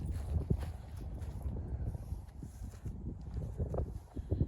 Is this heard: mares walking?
yes